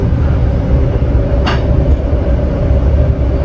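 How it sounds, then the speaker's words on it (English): A passenger train runs through Italian farmland, heard from inside the carriage as a loud, steady low rumble and rattle, with one brief higher squeal partway through. "Our train ride is just over an hour and 20 minutes."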